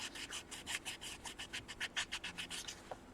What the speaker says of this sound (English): sand it like